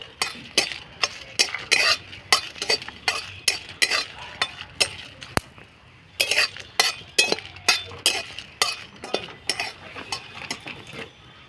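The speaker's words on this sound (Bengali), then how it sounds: "লঙ্কাগুলো ভেজে নেবো" Rapid metallic scraping and clinking of a utensil against a pan, repeated in quick rhythmic strokes while chillies fry, close and fairly loud.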